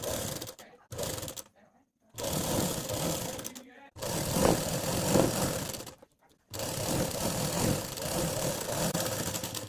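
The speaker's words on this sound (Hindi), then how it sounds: "अब मोहरी की साइड से सिलाई लगानी स्टार्ट करेंगे।" Sewing machine stitching the side seam of a pant, starting from the hem, while converting an old circle palazzo; steady mechanical whirring in several bursts separated by short pauses, close and moderately loud.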